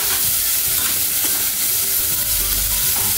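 Onion and tomato sautéing in a pan, a steady close sizzle with stirring scrapes running throughout, fairly loud and without any voices.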